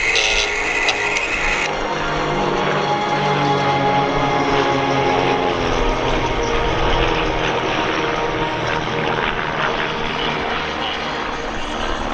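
Team Raven display aircraft fly in formation at the Shuttleworth Festival of Flight, producing a loud, sustained engine drone with shifting pitch that fills the air throughout.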